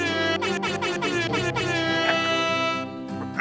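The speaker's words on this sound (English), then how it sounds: "Give us the air horn." A loud air horn sound effect blares in a few rapid pulsing blasts, then holds a long sustained tone before a last short honk, with no talk over it.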